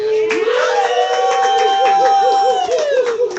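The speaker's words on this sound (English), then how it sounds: "You guys can welcome or clap him in" A live studio audience on a radio show cheers and whoops loudly to welcome a guest, with a sustained crowd roar and rising shouted voices throughout.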